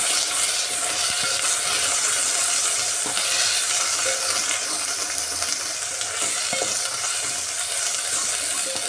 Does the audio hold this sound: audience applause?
no